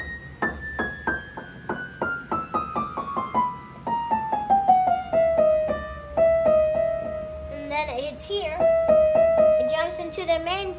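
Rapid repeated piano notes from a passage of Für Elise step steadily downward in a quick even rhythm, followed by brief bright flourishes near the end; no talking.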